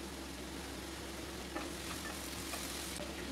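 Finely chopped fresh ginger and garlic sizzling in a pan for butter chicken: a loud, continuous hiss and crackle of frying, with light stirring scrapes, and no talk.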